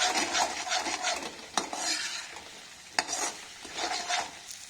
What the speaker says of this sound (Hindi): मसाले को जाली आने तक भूनेंगे।